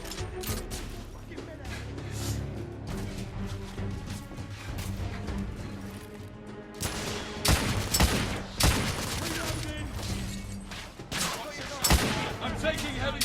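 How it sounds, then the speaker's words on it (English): Gunfire in The Order: 1886, heavy overlapping volleys and sharp single shots cracking loud and close over a rumbling battle bed, with bursts intensifying toward the end while voices shout in the background. "I'm taking heavy fire!"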